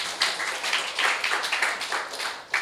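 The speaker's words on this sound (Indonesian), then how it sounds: "tepuk tangan boleh" An audience at an inspirational seminar claps in short, uneven bursts, fairly faint and brief, with no talking over it.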